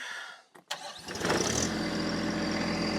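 A small TYM tractor engine cranks briefly, catches and settles into a steady, loud, rumbling idle, up close with no talking.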